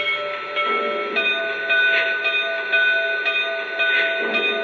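A Lionel Legacy Conrail T1 model locomotive rings its bell in a steady rhythmic clang, each bright metallic strike repeating about every second, loud and close with no talking.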